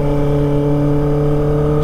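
A Kawasaki ZX-25R with a Prospeed Shark high-mount exhaust holds a loud, steady high-revving drone, close and continuous throughout with no talk.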